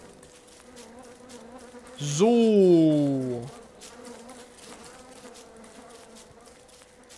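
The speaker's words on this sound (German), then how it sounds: "Vor allem habe ich jetzt so eine Fliege in meinem Zimmer." A housefly buzzes close by in a room, one loud, droning pass of about a second and a half that swells and fades against a quiet background.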